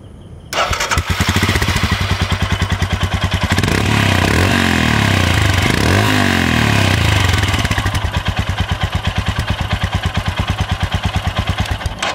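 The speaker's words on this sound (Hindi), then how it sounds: "तो ये था इस गाड़ी के एग्जॉस्ट नोट का आवाज़, जो कि काफ़ी बढ़िया है, बेसी है।" A Royal Enfield Himalayan motorcycle from 2020 starts up and settles into a steady, loud, thumping single-cylinder idle, close by and continuous, with a brief rev in the middle and no talking.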